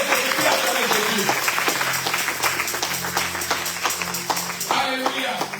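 Church congregation claps in sustained applause, dense rapid hand claps filling the whole stretch at steady loudness, with a low sustained organ or keyboard tone underneath and faint voices mixed in.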